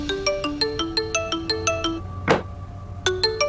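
A phone ringtone plays a repeating melodic pattern of bright, bell-like tones, pauses briefly around a short noisy burst, then starts again, clear and fairly loud.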